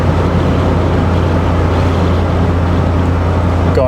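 A 1985 Toyota Celica GT-S driving through S-bends, heard from inside as a steady droning engine and road roar with wind noise, constant and loud throughout with no gaps.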